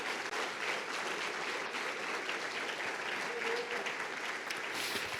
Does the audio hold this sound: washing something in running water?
no